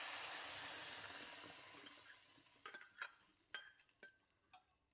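Garlic frying in a pan gives a quiet hiss that fades away, followed by a few distinct scraping and tapping stirs, with no talking.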